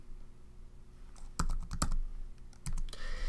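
Keys clatter on a computer keyboard in short irregular bursts of taps, close and crisp, while a name is entered, with no talking.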